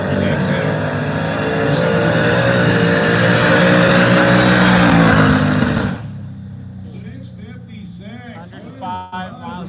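A pickup truck making a drag race pass at an antique drag racing event roars loudly at full throttle for several seconds, then cuts off abruptly; a voice comments over the quieter aftermath.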